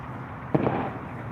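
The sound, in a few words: firecrackers and fireworks popping during a celebration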